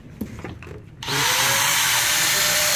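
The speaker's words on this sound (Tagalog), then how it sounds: "Kukuha ka na ng grinder sir." An electric grinder spins up abruptly after some short clatter and handling sounds, then runs at a loud, constant high-pitched whine right at the microphone.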